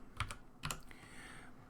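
Typing on a computer keyboard while entering a command on an Ubuntu 22.04 desktop: a few sharp key clicks in two quick bursts, close and clear, then quiet, with no talking.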